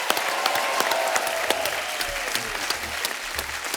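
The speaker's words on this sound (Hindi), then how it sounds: "जोरदार तालियां।" A television studio audience breaks into applause on a comedy talk show, sharp individual claps over a continuous crowd clatter, fairly near and steady throughout.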